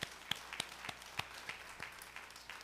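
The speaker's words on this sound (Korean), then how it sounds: "박수" Sparse, scattered claps from a church congregation during a sermon, a handful of distinct sharp hand claps spaced irregularly over quiet room tone, fairly faint and distant.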